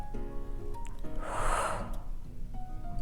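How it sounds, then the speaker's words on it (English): One deep breath drawn in and let out through the nose and mouth, close and fairly loud, a soft rushing swell that rises and fades over about a second in a quiet room. "Take a deep breath."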